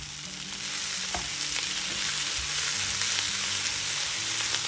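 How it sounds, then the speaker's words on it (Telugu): Coriander leaves frying in a pan for a bottle gourd chutney, giving a steady close sizzle throughout with faint stirring taps. "ఇలా కొత్తిమీరను వేసి 1 నిమిషం వేయించుకోండి."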